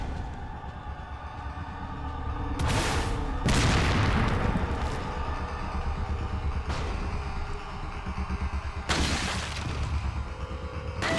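Heavy booms from a grenade launcher mixed with bursts of gunfire in Resident Evil 4 video game combat, loud and continuous, with several sharp blasts standing out over a dense rumbling battle background.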